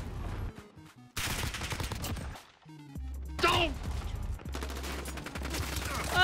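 Gunfire in the online shooter Modern Warfare, short overlapping bursts of shots and sharp impacts mixed with game sound and in-game voice, fairly quiet and uneven.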